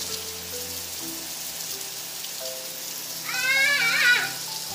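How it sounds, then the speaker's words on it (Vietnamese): Heavy rain falls steadily through the whole stretch as a broad, even hiss, with a brief higher whine or squeal rising near the end. Faint tones hum underneath, and no one speaks. "Mưa quá trời lớn rồi ông bà cô chú ơi."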